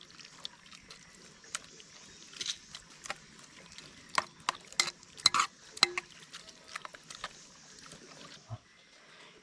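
Water bubbling in a pot, with scattered pops and sputters over a soft steady hiss, growing busier toward the middle.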